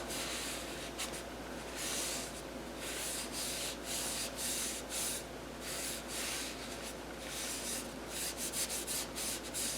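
A cloth rubs oil onto a wooden kitchen utensil, giving a close, steady scratchy friction with repeated wiping strokes and no talking.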